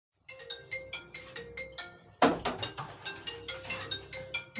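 A mobile phone ringtone plays on its own, a repeating series of bright melodic electronic tones in a steady rhythm that grows louder partway through and keeps cycling.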